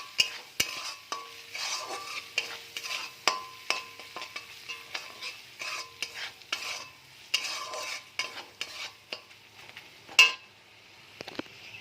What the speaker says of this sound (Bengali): কড়াইতে আমি জিরের গুঁড়ো, হলুদ গুঁড়ো আর সামান্য একটু চিনি দিয়ে দিয়েছি। এবার এটাকে ভালো করে একটু কষিয়ে নেব।